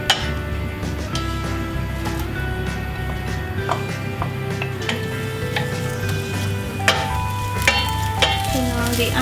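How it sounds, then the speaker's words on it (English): Chopped onion sizzles steadily in coconut oil in a hot pan, with the crackle of frying punctuated by occasional stirring scrapes and clinks, close and fairly loud, with no one talking. "We're going to fry the onion until it's slightly brown, and then we're going to remove it and cover and keep hot in the oven."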